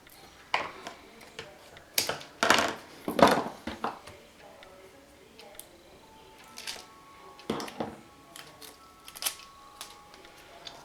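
Tape is pulled and torn in a few sharp, crackly bursts while making a paper cascade card, with quieter handling clicks and rustles in between, close by and otherwise quiet.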